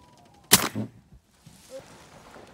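A single sharp shotgun blast during a swan hunt at a Utah wildlife refuge marsh, loud and close, followed by a short echoing tail and faint background noise.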